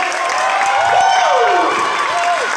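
Barangay fiesta audience at an outdoor show with acrobatics, mime and stilt walkers, applauding and cheering in a loud, steady wash of clapping and shouts, with a sliding whistle-like tone above it.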